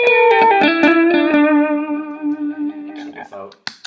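Electric guitar played through a Donner pedal board with a fast delay setting: plucked notes ring out and trail into repeating echoes that fade away, loud and close, alone with no talking.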